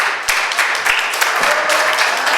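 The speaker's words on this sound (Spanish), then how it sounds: "Recibimos al maestro con un fuerte aplauso" Audience applause welcoming a teacher onto the stage at a Fondo de Cultura Económica event, a brief burst of steady clapping with a few sharp, close claps standing out above the crowd.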